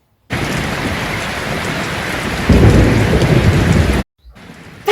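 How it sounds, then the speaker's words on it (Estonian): Steady, dense rain pours down with a deeper thunder rumble swelling in partway through, loud and close, before the sound cuts off abruptly near the end; no talking. "Kas siis tõesti vihma sajab?"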